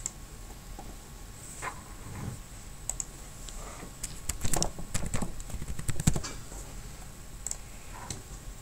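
Keys on a computer keyboard tapped to enter a category name, an irregular run of close, crisp clicks that cluster into a brief burst midway and then thin out to a few scattered taps.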